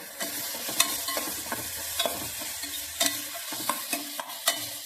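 Chopped bottle gourd is stirred in a frying pan, with a spoon scraping in quick, irregular strokes over a soft sizzle; close, moderately loud, and no talking.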